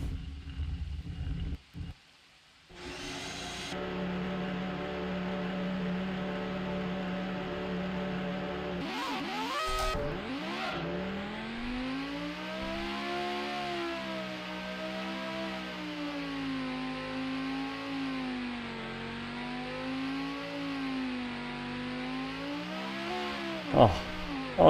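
Formula One car engines in the Grand Prix 2 racing game whine steadily through a long stretch, pitch rising and falling with gear changes and speed, a few short bursts at the start and a sharp transient near the end.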